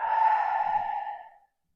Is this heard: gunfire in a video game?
no